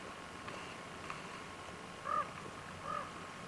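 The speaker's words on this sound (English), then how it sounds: "Hear the birds." Two faint, crow-like bird calls ring out about a second apart at Mammoth Terraces in Yellowstone, over a low, quiet outdoor hiss.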